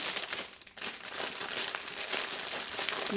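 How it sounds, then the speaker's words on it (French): Crinkly packaging paper being unwrapped and crumpled up close, a continuous loud rustling with a brief lull near the start. "J'enlève le papier qui fait énormément de bruit."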